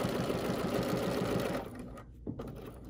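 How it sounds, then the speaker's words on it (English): A Bernina L 850 overlocker stitches a flatlock seam, a loud close steady machine whir that slows and stops partway, followed by a soft click. "I'm just going to sew from one corner to the next corner"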